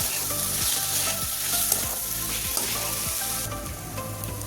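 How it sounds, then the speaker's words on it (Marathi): Coriander powder, garam masala and red chili powder sautéing in hot oil for paneer bhurji, a steady loud sizzle with repeated scraping strokes of a spatula against the pan, no voices. "धना पावडर गरम मसाला लाल तिखट त्याला चांगलं परतून घ्या"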